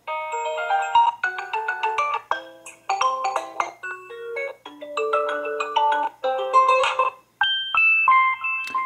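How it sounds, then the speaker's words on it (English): A melodic ringtone from the Xiaomi Mijia Aqara smart home security kit app plays on a phone, a bright, tuneful chime sequence repeating in clear phrases for about nine seconds with no talking. "let's hear the ringtone"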